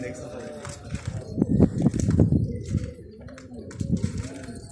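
Pigeons, carefully raised birds in a keeper's loft, coo softly in several low rounded calls amid scattered rustling and movement, while someone talks nearby.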